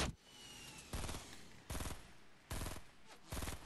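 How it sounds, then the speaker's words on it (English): Rapid gunfire from the video game Fortnite pops out in five evenly spaced bursts, each a sharp crack trailing into a short rattle, with no talking over it. "Oh, he's shooting back."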